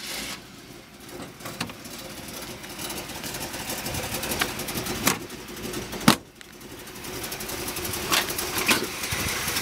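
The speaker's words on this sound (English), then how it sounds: "Why don't we leave it running and open the hood and get a shot of this motor running?" A Chevy 350 Corvette V8 fitted in a 1952 Jaguar XK120 coupe hot rod idles with the hood open. It gives a steady, close, rumbling idle with a few sharp clicks and knocks over it, and there is no speech.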